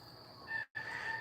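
Roosters crowing on a calm morning in Hawaii, a single close crow that breaks off briefly and then continues over a faint outdoor background.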